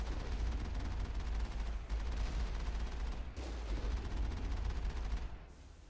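Dense, continuous gunfire and rocket blasts from the Mass Effect video game on Insanity difficulty, a steady loud barrage with brief dips before trailing off at the end.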